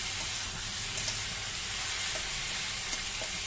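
Vegetables for raw papaya shukto cook with a little water over a full flame, producing a close, constant bubbling sizzle with faint intermittent pops.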